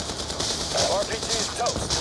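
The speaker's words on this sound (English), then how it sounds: "Bravo receiving effective enemy fire." Rapid, sustained machine gun fire from the video game Call of Duty: Black Ops 2 rattles steadily and loudly for two seconds, with brief shouted voices woven through the gunfire.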